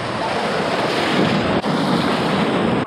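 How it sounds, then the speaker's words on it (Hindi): Seawater surges into a mangrove estuary with a loud, continuous rushing wash, the roar of flowing water mixed with heavy wind buffeting the microphone and barely a pause. "इधर से समुंदर आके पूरा इधर से पानी उधर मार रहा है।"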